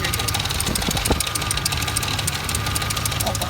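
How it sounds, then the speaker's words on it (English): A Pontiac GTO engine idles steadily and loudly up close, with a rhythmic knocking clatter running through the rumble; the head is cracked. "it's knocking right here."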